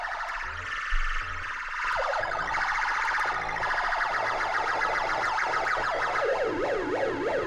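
The Probe, a homemade electronic instrument with small metal probes, puts out loud warbling synth tones that sweep and wobble like a siren, rising and falling in quick wavering cycles after a short thump at the start.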